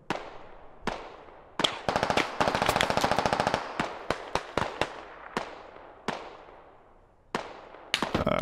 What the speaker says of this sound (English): Alright, he's shooting this way, guys.